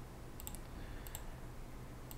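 A computer mouse clicking on a PC running motherboard software: a few sharp, faint clicks in small clusters over a steady low background hum.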